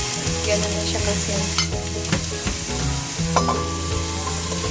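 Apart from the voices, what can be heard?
sliced eggplant frying with onion in a pan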